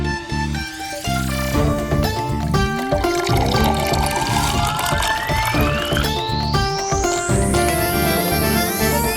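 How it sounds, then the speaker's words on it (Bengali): Water poured into a glass, a loud close stream whose pitch rises steadily as the glass fills over several seconds, with background music throughout. "তুই জল ভরে নে"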